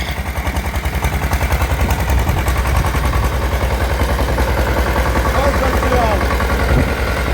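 A small tractor engine runs steadily and loudly up close while it clears snow, its rapid pulsing chug continuing for the whole stretch with some mechanical clatter.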